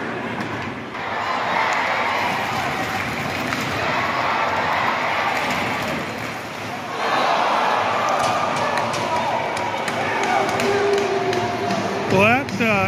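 A loud, enthusiastic crowd in an indoor arena at a Greenville Swamp Rabbits hockey game, with a steady roar of cheering, occasional thuds, and a voice talking over the din.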